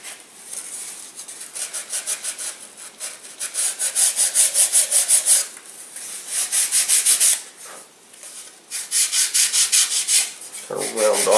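Sandpaper rubs back and forth along the leading edge of a model airplane wing in rhythmic, close strokes, with short pauses between bursts of scratchy friction.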